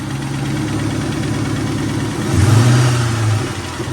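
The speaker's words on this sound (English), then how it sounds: "So I rev it up a little bit just to see if I can't make the tapping sound more audible." A Mustang Terminator Cobra engine idles with a steady mid-pitched hum, then is revved once, swelling louder for about a second before falling back, with a faint tapping under the engine note, close and with no talk.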